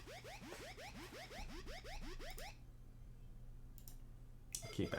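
Rapid mouse clicks sound in quick repeated bursts for a couple of seconds, then stop, leaving a quiet room with a faint brush of movement at the end.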